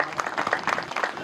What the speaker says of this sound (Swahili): tujipigie makofi kina mama.